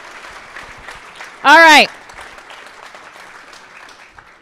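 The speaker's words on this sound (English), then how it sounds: "Let's give a big round of applause for the last 8 that just went up." Scattered, fairly faint applause from a startup pitch night audience in Calgary, with a sharp loud whoop bursting out briefly midway and a voice speaking just at the start.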